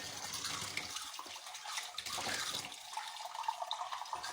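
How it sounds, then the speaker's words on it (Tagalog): Cool tap water runs from a faucet into a container of eggs being salted, a steady soft splashing flow close by throughout. "dagdagan ko ng tubig na hindi mainit kasi hindi pa siya nag-level sa itlog yung tubig"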